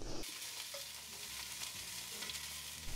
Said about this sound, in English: while our sausage is searing